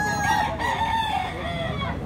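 A Hatch Gray gamefowl rooster at a public market gives one loud, close crow, a drawn-out wavering call lasting about two seconds over soft background market noise.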